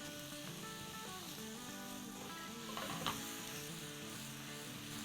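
Minced meat with spices sizzles and fries in a pan, a steady close crackle with faint stirring scrapes around the middle, no talking.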